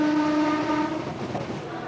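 A train rolls close by with a sustained, loud horn tone over a steady rumble of rail noise, heard alone without voices, on a line carrying passengers into Calcutta.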